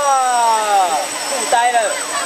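An octocopter drone's motors whine and spin up for takeoff, rising and sweeping tones that waver over about two seconds, close by, with people's excited voices talking over them.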